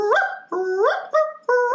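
A performer voicing Snoopy in a stage play imitates a dog with three or four drawn-out, rising howl-like barks, close and loud, each call sustained and separated by short pauses.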